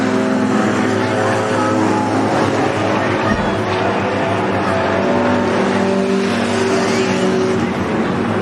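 Race cars roar around a speedway track under green-flag racing, a dense, continuous engine drone with passing surges, while an announcer talks over the noise.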